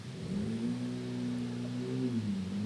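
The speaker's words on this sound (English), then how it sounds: "Revving the hell out of something nearby." An engine revs hard close by, a steady droning roar with rising and falling pitch sustained throughout, loud and alone with no talk over it.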